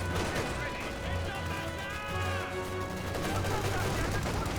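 Heavy artillery and gunfire on a Company of Heroes 2 battlefield, a dense steady rumble of distant explosions and shots running throughout under a commentator's voice.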